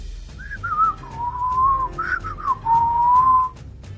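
A person whistles a wavering tune up close, several short phrases sliding up and down, alone with no talking.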